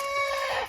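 Faverolles hen giving a single short, tonal cluck, close and clear, alone.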